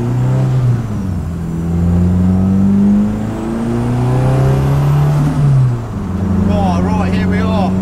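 A rear-wheel-drive Honda Civic with a 540 hp boosted engine and no VTEC revs up and down through rising and falling harmonic sweeps, close and loud, while people talk over it near the end.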